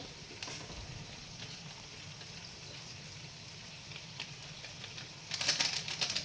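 Red chili powder masala fries in a pan for a homemade crab curry, giving a steady, quiet sizzle that swells into a louder crackling burst near the end, with no talking.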